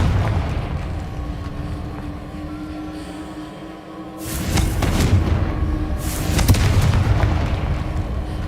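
Two heavy, booming Confringo blasting-spell explosions in the video game Hogwarts Legacy, a couple of seconds apart, each a loud rumbling burst that lingers, over steady game ambience.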